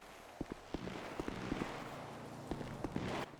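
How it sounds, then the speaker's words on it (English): Gunshots outside a courtroom in the GTA 5 video game: about a dozen sharp cracks in irregular bursts, fairly distant and muffled, over a steady background hum. "Gunshots outside the courtroom?"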